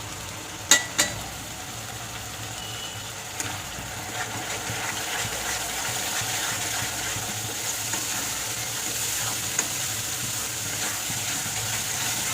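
Dry ground spices (cumin, coriander, chili, turmeric) frying in oil with onion and tomato for a Bengali tel koi fish curry, giving a steady close hiss with a couple of sharp clinks near the start.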